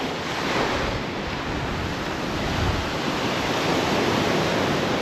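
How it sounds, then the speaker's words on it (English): Ocean surf washing steadily onto a beach, a broad continuous roar of breaking waves with some wind, loud and close, no voices. "You can get lost in the ocean here, just, you know, hypnotized."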